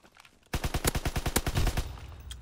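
Rapid automatic gunfire in a first-person shooter video game: a loud, close burst of roughly a dozen quick shots in even succession, with no talk.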